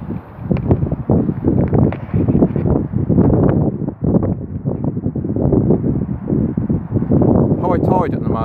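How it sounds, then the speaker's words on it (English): Strong wind buffets the microphone in continuous rough gusts, loud and close, with no pauses, on a waterfront at Port Solent at high tide. "it's blowing an absolute gale up here"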